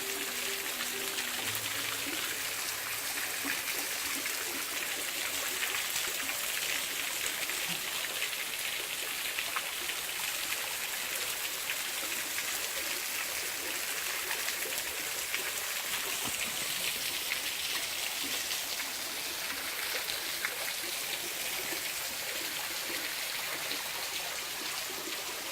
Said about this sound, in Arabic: مياه عذبة.